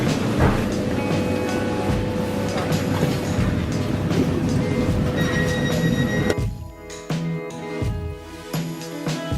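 Train running on rails in a station in Edinburgh, a loud continuous rumble with wheel squeal and tonal whine that thins out near the end into sparser clanks and knocks.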